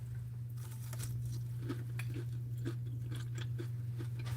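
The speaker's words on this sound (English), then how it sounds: "I want to make sure they crunch." Crunchy cornmeal-coated fried green tomatoes being chewed close up: repeated crisp crunching bites in a steady rhythm over a low constant hum, with no talking.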